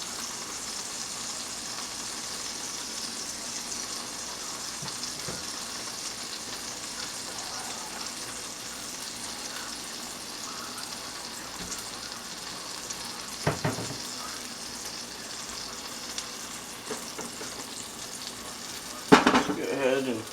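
A Reuben sandwich frying under a weight in a preheated skillet gives a steady, close sizzle throughout, with a couple of clanks of metal near the end and a few brief knocks in the middle.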